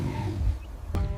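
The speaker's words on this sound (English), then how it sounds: "He roars, a deep, guttural sound of fury and pain, and lunges against the wire." A lion caught in a wire snare lets out a deep, guttural roar of pain and fury, loud and close, with a brief sharp crack near the end and no talking.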